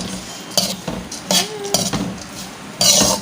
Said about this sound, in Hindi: ये काजू को फ्राई कर रहे हैं देसी घी में, क्योंकि बड़ा टेस्ट आता है देसी घी का